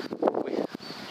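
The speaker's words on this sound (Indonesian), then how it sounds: "Daun pisang itu sampai kayak gitu anginnya ya." Strong wind gusts buffet the microphone outdoors near banana trees, producing brief, loud rushing bursts.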